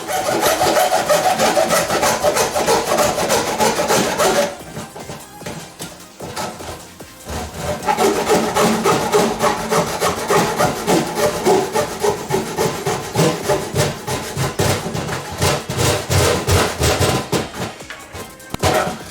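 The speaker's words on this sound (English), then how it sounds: "Okay, I'm gonna have to use a hacksaw." Hacksaw cutting through a kitchen sink drain tail piece, with steady rhythmic back-and-forth rasping strokes, loud and close, a short pause midway before sawing resumes.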